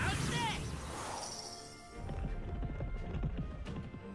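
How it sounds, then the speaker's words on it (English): A horse-drawn carriage skill in Metaphor ReFantazio: a whinny up front, then rapid clip-clop hoofbeats and rolling rumble with game effects, under a voice calling out. "Horse-Drawn Carriage!"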